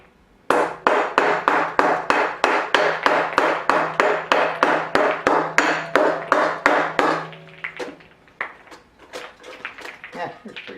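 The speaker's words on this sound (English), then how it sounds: "I'm actually going to use a big gouge for this" A big gouge driven into an elm bowl blank: about two dozen rapid, evenly spaced woody knocks from close by, then a few sparser, lighter taps.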